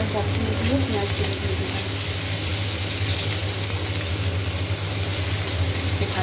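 Steady sizzling of food frying in a pan, with a low hum and faint voices in the background.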